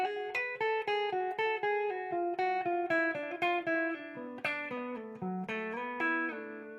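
Electric guitar lick alternating a root note with a perfect-fourth double stop, about twenty clean picked notes in a steady rhythm, each ringing briefly, the line stepping gradually downward.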